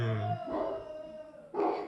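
Several dogs howl nearby in drawn-out, wavering tones, with one long howl fading into a second burst of howling toward the end, heard clearly and without speech.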